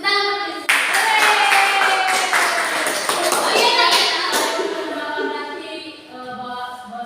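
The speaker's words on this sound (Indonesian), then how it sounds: "Tepuk tangan buat Chris." A classroom of students claps for a classmate, a burst of hand clapping that starts abruptly and then tapers off, with children's voices and bright tonal sounds mixed in.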